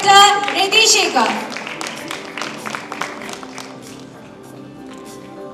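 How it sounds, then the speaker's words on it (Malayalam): Audience applause welcoming a film director on stage at a Malayalam movie audio launch, a burst of clapping that tapers off under a musical tone and a voice speaking over it. "നല്ലൊരു കൈയടിയോടുകൂടി നമുക്ക് സ്വാഗതം ചെയ്യാം ഡയറക്ടർ രതീഷ് ശേഖർ"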